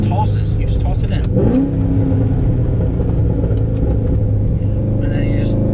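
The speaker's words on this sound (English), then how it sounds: "Now, little downshift here. It just tosses. You just toss it in." A cammed C6 Corvette downshifts and accelerates, its engine note rising in a loud, rumbling pull with a brief rev blip during the shift, heard under someone talking.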